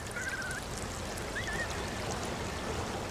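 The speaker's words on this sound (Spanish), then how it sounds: "Esto es el sonido del agua que fluye en un río." River water flows in a steady, continuous rush, close and even throughout, with a couple of faint bird calls briefly audible above the stream.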